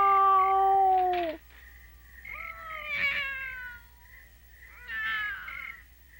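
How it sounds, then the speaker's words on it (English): A cat meows three times in drawn-out, wavering cries spaced a second or two apart, close and clear over a quiet background. "Meow."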